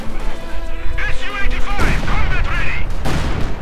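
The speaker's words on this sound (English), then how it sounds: "And the heavy mortar continues to fire away." A heavy mortar fires in a strategy video game, with sharp booming blasts and crashing impacts layered over a dense, rumbling battle soundscape, loud and near.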